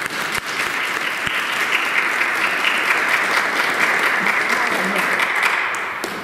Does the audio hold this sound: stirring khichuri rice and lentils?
no